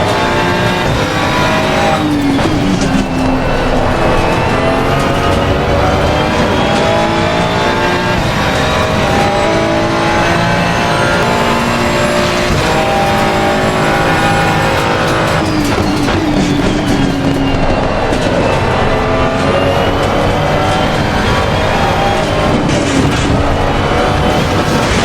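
A Ferrari 296 race car screams around Monza in Assetto Corsa Competizione, loud continuous engine howl with rising revs, gear shifts and brief tire squeal, no talking.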